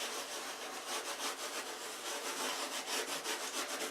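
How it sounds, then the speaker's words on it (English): Real gold leaf rubbed by hand onto glued parts of a watercolor card, a steady rhythmic dry scratching and brushing, close and fairly quiet, with no voices. "you rub this into the glue parts"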